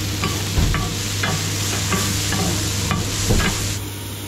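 An oyster omelette cooks on a street-stall griddle in Wuhan with garlic sprouts beneath and chestnut meat on top, giving a steady close sizzle broken by sharp spatula scrapes and clicks, with no talking.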